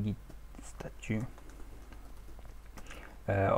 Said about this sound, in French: si je tape par exemple ici un Git statut